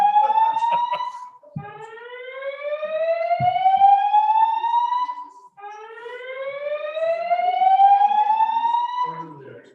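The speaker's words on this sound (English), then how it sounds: "There has been a fire alarm reported in the building." Fire alarm sounding inside a building during a state Senate committee meeting: a loud electronic whoop that sweeps upward in pitch, repeating in long rising cycles with short gaps between them.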